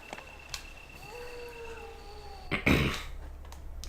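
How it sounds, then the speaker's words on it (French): Dogs howling in the survival horror game Resident Evil Director's Cut, long wavering tonal cries drawn out over a low hum, followed by a louder burst of game noise near the end. "Et les chiens sont revenus."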